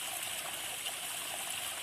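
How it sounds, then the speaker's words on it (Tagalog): A strong stream flows behind a house beside farm fields, producing a steady rushing, gurgling wash of water that holds even and fairly close for the whole short stretch, with no voices. "hindi ako naman problema ng tubig, kabukid, kasi malakas ang tubig dito"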